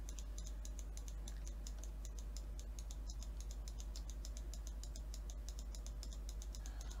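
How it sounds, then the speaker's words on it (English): Rapid, steady clicking from a computer mouse, a dense run of small sharp clicks close to the microphone throughout, over a constant low hum while a Fortnite Creative session is played. "That's my mouse just clicking."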